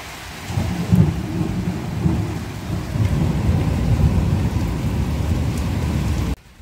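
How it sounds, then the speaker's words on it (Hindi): Heavy monsoon rain pours down in a dense, steady roar in a Himalayan hill home while low thunder rumbles underneath, cutting off abruptly near the end. "इतनी ज़बरदस्त बारिश हो रही है कि क्या ही बताएं"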